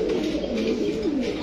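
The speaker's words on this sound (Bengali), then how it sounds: "দেখেন খালি দর্শক, কবুতর গুলা দেখেন" Kaldam pigeons at a pigeon market, cooing softly in a short low warbling call, close by and steady over a continuous background murmur.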